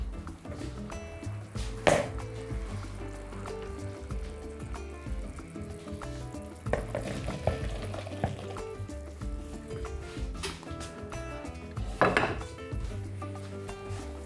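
Liquid pours and splashes with clattering of a metal pot, a steady wash of draining water under occasional knocks and clinks.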